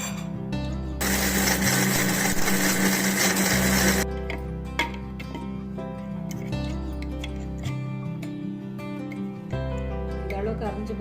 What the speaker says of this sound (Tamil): நம்ம முதல்ல இந்த மிளகாய், பருப்பு, தேங்காய், இஞ்சி இதையெல்லாம் அரைச்சிட்டு